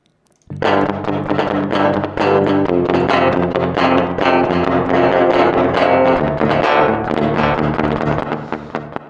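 A distorted electric guitar rings out through delay and reverb effects in Studio One's Pedalboard, with echoing repeats and a spacious wash of reverb, loud and continuous, with no talking.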